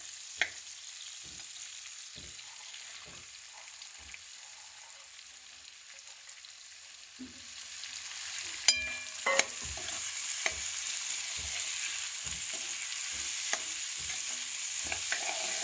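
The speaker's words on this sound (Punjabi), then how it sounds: "ਹੁਣ ਆਪਾਂ ਜਿਹੜੇ ਚਨੇ ਆਪਾਂ ਨੇ ਵਾਲ ਕੇ ਰੱਖੇ ਸੀ ਇਹਨਾਂ ਨੂੰ ਵਿੱਚ ਫਰਾਈ ਕਰ ਲੈਣੇ ਆ" Boiled chickpeas are frying in a pan with tomatoes for chana rice, giving a steady sizzle that swells louder partway through, with rhythmic scraping and stirring knocks and a couple of sharp clinks.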